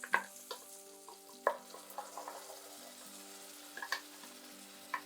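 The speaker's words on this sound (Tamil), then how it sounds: "லைட்டாக தக்காளி வதங்கிறது இப்போ பாருங்கள்" Tomatoes soften in a pan with ground masala for an egg curry. A low, steady sizzle runs underneath, broken by a handful of sharp spoon clinks and scrapes of stirring near the mic.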